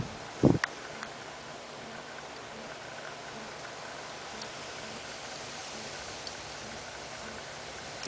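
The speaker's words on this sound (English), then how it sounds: "And the wind is picking up." Outdoor wind rises into a steady, broad rushing hiss that holds through the whole stretch, with a brief louder bump near the start and no speech.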